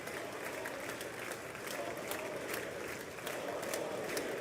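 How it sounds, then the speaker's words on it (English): Members of Congress applaud at the 2020 State of the Union, a dense, sustained wash of many hands clapping in a large chamber, steady throughout with faint crowd murmur beneath. "A lot of people clapping."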